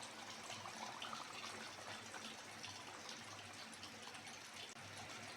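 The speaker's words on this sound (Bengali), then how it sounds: "এইবার দিয়ে দেবো নারকেলের দুধ।" Coconut milk pours into a simmering hilsa fish malaikari curry made with mustard paste, producing a soft, continuous gushing flow that stays even for several seconds.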